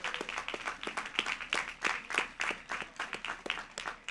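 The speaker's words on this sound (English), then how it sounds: "Let's give a round of applause for Crystal Bourne for that reading." Applause at a college STEM commencement after a reading, with distinct individual claps standing out in a quick, fairly sparse rhythm from a moderate-sized audience, close and clear.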